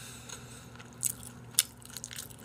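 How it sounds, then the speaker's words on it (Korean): Crispy Korean sweet and sour pork (tangsuyuk) being bitten, a few sharp crunches close to the mic over a quiet room background, with soft chewing between them. "겉에 표면이 탕수육이 바나나 킥 같은 그런 바삭함을 가지고 있어"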